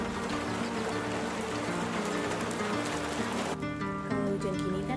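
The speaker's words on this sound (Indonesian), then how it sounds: "Hujan nih." Steady rain falls and patters on a surface, a dense even hiss that fills the clip, with a faint voice underneath near the end.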